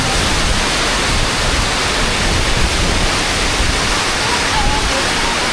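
Water roars through an inactive dam in a loud, dense and unbroken rush with no pauses, close by and filling the whole stretch.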